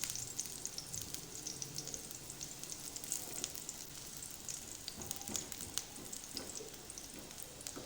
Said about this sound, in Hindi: लहसुन को ब्राउन होने तक इसमें हल्का सा चम्मच हिलाते जाएं।